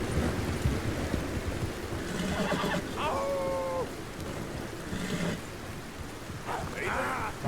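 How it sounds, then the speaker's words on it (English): A rainstorm in the video game Red Dead Redemption 2 rushes in a constant hiss of falling rain, with brief tonal game sounds and voices talking intermittently over it. "it's like the storm was pretty loud"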